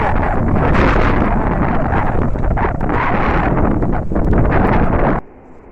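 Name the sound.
strong wind blowing before a storm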